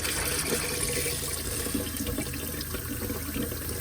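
Water runs steadily from a newly installed kitchen faucet in an RV or motorhome, a close, continuous splashing stream that never lets up, with no voices.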